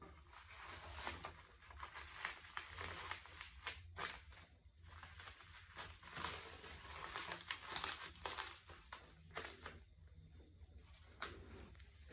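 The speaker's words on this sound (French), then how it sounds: "nous allons plier ce papier qui va nous permettre de trouver les numéros" Paper is folded and creased by hand, giving repeated crinkling and rustling in short bursts over a faint steady background hum.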